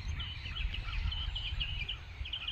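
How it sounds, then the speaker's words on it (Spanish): Small birds chirp steadily in repeated high bursts across an open Texas ranch, fairly close, over a constant low rumble of wind or distant machinery. "Hay bastante pajarito, se oye, bastante pajarito."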